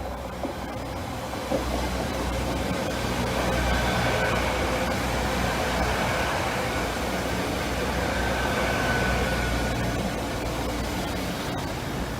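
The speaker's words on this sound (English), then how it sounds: "Here's the London train on his way towards Newark." A London-bound train heading towards Newark passes with a continuous, even rumble and rushing noise that stays steady for about twelve seconds, with no voices over it.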